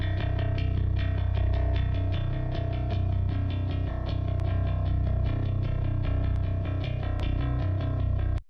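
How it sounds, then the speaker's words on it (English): Channel distortion from a British console emulator plugin (Sonimus Satson) on a driven mix, steady and loud throughout, with a rhythmic pulse of repeated hits and sustained tones. "This is just channel distortion."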